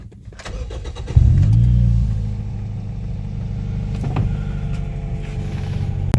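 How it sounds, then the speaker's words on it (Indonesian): A Toyota Vios Limo third-generation facelift sedan cranks and its engine catches at night, a short starter whine giving way to a loud, steady idle close to the microphone. No one speaks. "Jadi ini kita coba hidupin dulu mobilnya."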